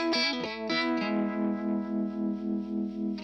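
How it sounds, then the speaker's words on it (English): An electric guitar played through an Electro Harmonix tremolo effect: a few struck chords, then a sustained tone that pulses evenly in volume at a steady rate, heard alone. "The next setting I'll show you is the tremolo, which is a very sweet sounding."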